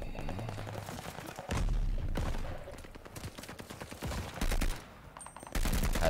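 Gunfire in the Vanguard video game, rapid automatic bursts and single shots coming in bunches, loud and close with short pauses between volleys.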